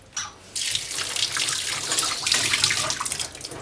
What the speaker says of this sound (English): just give them a rinse